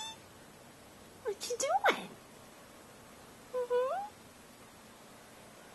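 An outdoor cat by the Rogue River gives two short, close meows a couple of seconds apart, and a person speaks softly to it in a quiet setting.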